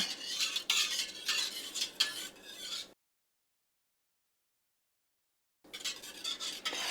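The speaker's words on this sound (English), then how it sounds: "You just want to just whisk it gently and see if you can get any of the lumps of any of the powdered mixture fixed in here." A whisk beats gently through a powdered keto homemade yogurt mixture, quick rhythmic scraping and ticking against the bowl for a few seconds, then a gap of silence before the whisking resumes, close and clear with no speech.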